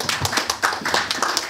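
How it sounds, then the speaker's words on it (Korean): Lecture audience clapping in a dense, close burst of applause welcoming a professor, steady and fairly loud without talk. "노성호 한림대 교수님을 뜨거운 박수로 부탁드리겠습니다."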